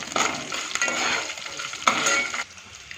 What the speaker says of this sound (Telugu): అట్లనే ఒక 2 మిరపకాయలు వేసి బాగా దించి కలపాలి.